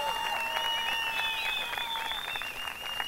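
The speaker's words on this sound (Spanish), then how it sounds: "Un aplauso, por favor, para ella." Applause greets a contestant at a singing festival semifinal, a brief, dense patter of clapping from the audience, while bright tonal music sustains clearly over the crowd noise throughout.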